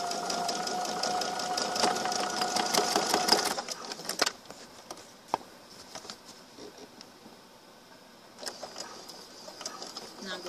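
A sewing machine stitches the folded hem of a pillowcase dress, a fast rattling hum for a few seconds that then slows and stops, with quieter stitching bursts and soft handling noises after.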